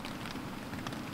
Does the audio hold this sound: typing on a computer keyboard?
no